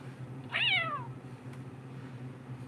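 A single drawn-out meow, voiced by a person imitating a full-size cat, falls in pitch and sits close over a steady low hum, with no talking.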